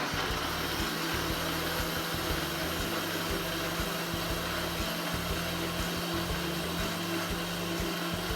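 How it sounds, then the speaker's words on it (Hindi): An electric blender whirring continuously on a strawberry coffee smoothie, a loud, close, steady motor drone with a gritty churn, with no talking over it. "चलिए इसको हम अच्छे से ब्लेंड कर लेंगे।"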